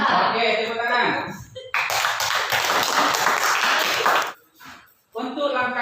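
A classroom of students bursts into loud applause that lasts a few seconds, then stops abruptly. A teacher speaks before and after the clapping.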